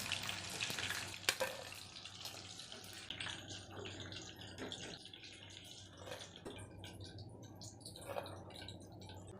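Chicken pieces frying in oil in a pan for a home chicken sizzling dish, a continuous soft hiss and crackle with scattered sharper pops and scrapes.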